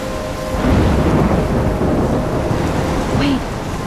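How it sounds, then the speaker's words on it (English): Thunderstorm in the video game Life Is Strange: a continuous heavy wash of rain and rolling thunder, loud and enveloping, with a brief higher tone near the end. "I'm trapped in a storm?"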